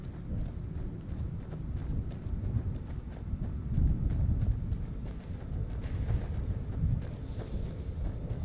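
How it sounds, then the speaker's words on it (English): Steady rumbling hoofbeats of a galloping horse in the video game Skyrim, in the Soul Cairn, run continuously, blended with a low windy roar and no talk. "There's that horse again."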